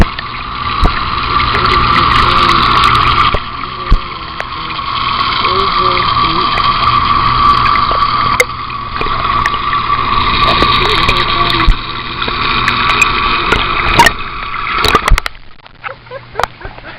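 Hot tub water jets run with a steady, loud rushing gurgle and churning bubbles, close by, fading and breaking up near the end with occasional faint voices.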